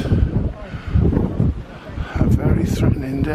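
Gusty wind on a hillside at Gummers How buffets the microphone in rumbling surges, with a voice speaking over the blustery roar on a freezing, grey day.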